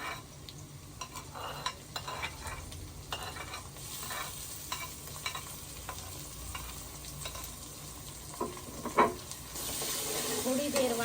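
Crushed ginger and garlic sizzle steadily in a pan with browned onions, stirred and scraped now and then in a rural village kitchen, the frying close and continuous, with occasional clinks, a splash of water and faint voices.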